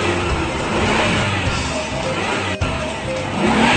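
A car engine runs steadily throughout at a fairly loud, close level, with a broad continuous rumble, a brief dip near the middle and a slight rise toward the end.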